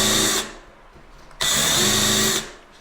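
A power drill drives screws during a pantry remodel, two sustained whirring bursts of about a second each with a short pause between, loud and close with no talk.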